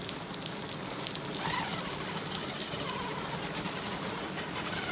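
Steady rain falls on a street during an outdoor demonstration of an umbrella that spins to fling water off, making a soft, continuous patter and hiss with scattered drips, fairly quiet and unbroken, with no one talking.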